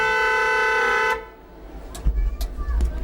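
A train horn blares in one loud sustained blast for about a second, then cuts off, leaving low rumble and scattered bumps and clatter from the moving train.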